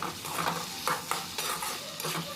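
Spices being stirred into a drumstick and potato curry in a pan, with a spoon scraping and clattering against the metal in repeated strokes over a faint sizzle.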